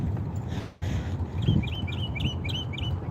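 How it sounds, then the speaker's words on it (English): Birds chirping outdoors on a spring morning near a beach, with repeated short high tweets over steady low outdoor rumble and a brief dip midway. "Y'all hear the birds?"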